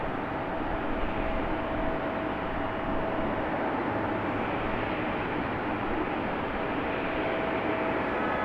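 An ATR turboprop airliner at Raleigh-Durham International Airport gives off a steady, broad engine roar with a faint tonal whine, continuous and fairly loud, heard from across the apron.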